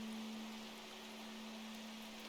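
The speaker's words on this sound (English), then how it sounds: "Can I just say I'm loving the rain effect?" Steady rain effect in the video game Strange Horticulture, a soft continuous hiss of falling rain with a faint low steady hum underneath, even and unbroken throughout, with no voices.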